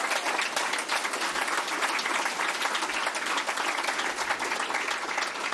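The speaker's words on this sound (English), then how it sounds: "So a big round of applause for all of the candidates." An election-night crowd gives sustained applause for Liberal candidates, a dense, even wash of clapping from many hands that holds steady throughout with no voices rising above it.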